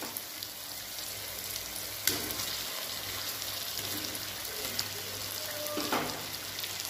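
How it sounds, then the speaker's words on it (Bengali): Fried potatoes dropped into a cooked Bengali aloo dum spice masala sizzle steadily at close range, with a sharp crackle burst near the start and a softer flare later, all without talk. "এবার আমি এর মধ্যে ভেজে রাখা আলুগুলো দিয়ে দেবো।"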